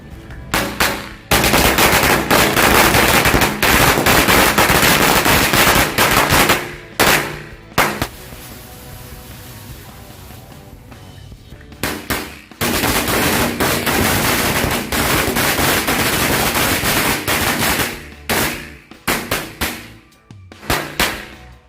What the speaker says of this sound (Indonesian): kita nyalakan 2 gepok mercon korek